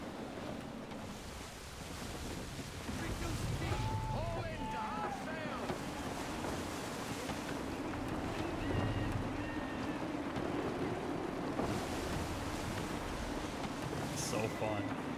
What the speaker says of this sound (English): Sail through the channel. Wind looks to be shifting. Stay alert, Connor. Gusty winds can be difficult to manage.